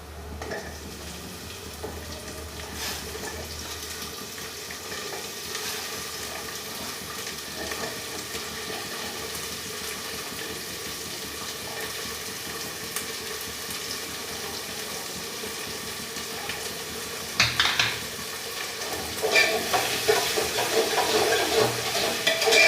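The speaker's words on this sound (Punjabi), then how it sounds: "ਪਹਿਲਾਂ ਸ਼ਿਮਲਾ ਮਿਰਚ ਤੇ ਪਿਆਜ਼ ਨੂੰ ਭੁੰਨ ਲੂੰਗੀ" Onion and capsicum fry in a pan with a steady low sizzle that runs throughout, then a burst of scraping and clattering stirring near the end, close and with no talk.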